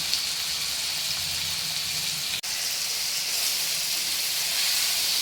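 Chopped spring onions hit cooked, softened tomatoes in a hot pan, setting off a steady, fairly loud sizzling hiss broken by one brief dropout, with no voices.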